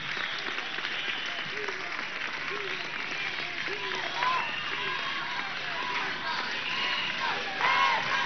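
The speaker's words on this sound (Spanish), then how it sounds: "Un aplauso a Silita, primera combatiente" Rally crowd at an education march applauding for Silita, broad sustained clapping and cheering spread across a large outdoor gathering, with scattered voices calling out within the roar.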